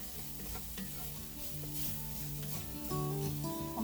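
Flour stirred into hot fat in a pan to make a roux for carne guisada, a steady close sizzle with scraping stir strokes throughout.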